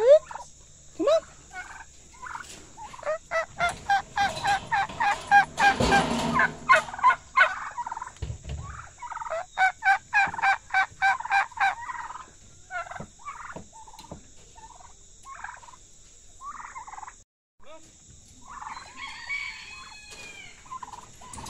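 Turkeys gobble near chickens at feeding time in a backyard coop, a rapid series of loud, rolling gobbles, some overlapping, with clucks and the occasional crow mixed in.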